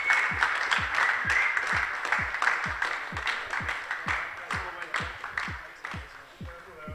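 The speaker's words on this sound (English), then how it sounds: "Give Jack Ashton a round of applause" An audience at a Donington Park National motorsport race applauds the race winner: steady, close, many-handed clapping with distinct individual claps, lasting several seconds and easing slightly toward the end.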